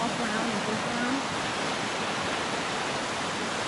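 Rushing creek water running high along a hiking trail in Boise, Idaho: a broad, steady, close hiss of flowing water filling the whole clip, with a faint voice briefly audible under it early on.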